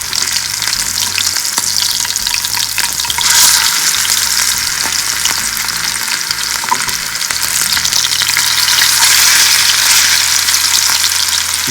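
Fish pieces frying in hot oil, coated in a mild spice mix for a crunchy home-style fish fry, give a steady, loud, close sizzle with crackling pops throughout and no talking.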